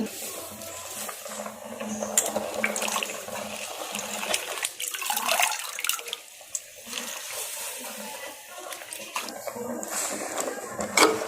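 Water runs and splashes as washed spinach is drained, continuous and fairly close, for palak keerai kadaiyal with cooked lentils in a home kitchen.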